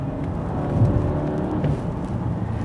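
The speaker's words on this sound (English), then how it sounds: "You see it does drop a few gears." A 2023 Mercedes-Benz GLE engine drops through several gears in sport mode, a steady, fairly loud interior drone with slight rises in pitch and no talking.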